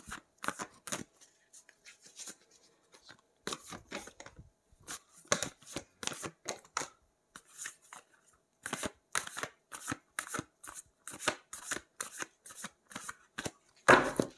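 A deck of tarot cards being shuffled and drawn, crisp riffling bursts close up with short gaps, sparse at first and then coming fast and steady.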